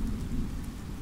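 Rain patters and drums on a shelter roof in a dense, steady, low rumbling wash, brief and close, with no voices.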